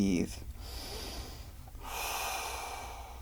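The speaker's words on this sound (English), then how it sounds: "let's really slow down and breathe." Slow, deep breathing during a calming art therapy exercise: a short sharp intake at the start, then a long steady breath in and a broad airy exhale later, close and fairly loud with no talk over it.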